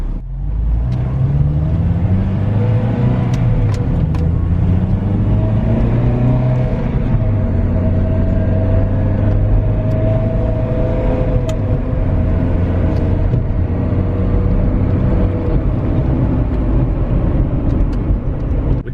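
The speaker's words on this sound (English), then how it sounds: "So let's run up the road here, go through the gears." A 2003 Honda Civic Si EP3 pulls up the road through the gears, its loud engine note rising in pitch, dropping at each shift, then climbing again in a steady close drone.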